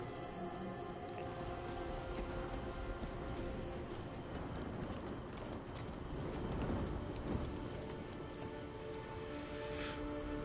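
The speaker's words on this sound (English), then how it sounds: "did you see the graphics on that bird?" A pigeon-like bird coos softly amid a dense ambient background in Diablo IV, with faint rhythmic hoof-like clopping underneath.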